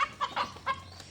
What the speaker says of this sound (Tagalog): marami kayong naririnig na mga boses ng manok dito sa bukid